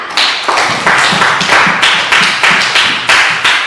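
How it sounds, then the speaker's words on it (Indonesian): A class of students claps in applause, a steady run of sharp, close handclaps with a loud, lively pulse and no talking over it. "kita berikan aplaus dulu untuk teman kalian"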